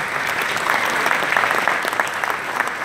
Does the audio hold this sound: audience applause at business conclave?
yes